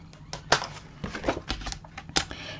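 Scissors snip through scrapbooking paper in a series of short, crisp cuts, several sharp clicks and rustles spaced unevenly over a couple of seconds, close and fairly quiet.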